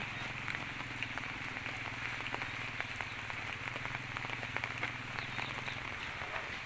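Steady rain falls outdoors, a soft continuous hiss of drops with faint scattered taps on surfaces, fairly quiet and even throughout.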